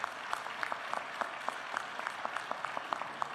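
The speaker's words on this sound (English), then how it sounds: "give yourselves a nice round of applause for participating" Sparse audience applause for straw poll participants at the CPAC conference, a scattering of distinct claps in a quiet room, fairly soft and brief.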